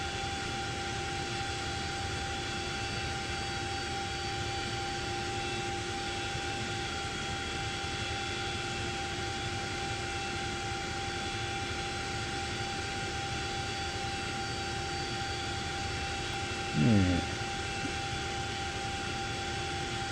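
Twin turbine engines of a CH-47D Chinook helicopter in the X-Plane 11 flight simulator drone in a steady, loud hum with sustained whining tones, unchanging throughout, plus one brief rising blip near the end.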